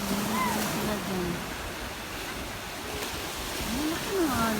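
Sea waves wash onto the shore at Pandan, Bohol, a steady soft surf rush under nearby voices talking intermittently.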